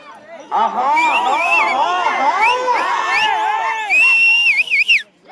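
A crowd at a village race in Kadapa district, Andhra Pradesh, shouts and whistles loudly and continuously, with sharp rising whistles and excited cries close by.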